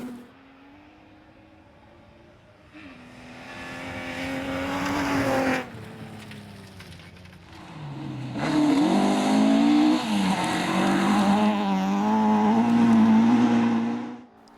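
BMW rally car on a forest stage, its engine rising from a distant hum to loud, aggressive revving with gear changes and surging acceleration, briefly dropping away before roaring back closer and harder.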